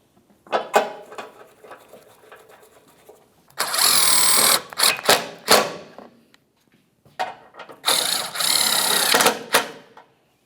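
Larger grille mounting bolts are driven and snugged on a 2010-2013 Ford Transit Connect, heard as two sustained bursts of power-tool whirring alongside scattered clicks and handling knocks, with no talking.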